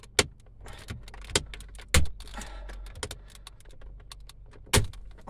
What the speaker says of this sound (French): Donc pour venir enlever déjà la façade, en fait on va venir la déclipser.